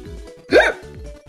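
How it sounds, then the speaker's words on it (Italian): A single sharp hiccup, loud and close, stands out in a quiet room with only a faint low hum around it. "Non so se si è sentito il singhiozzo intanto."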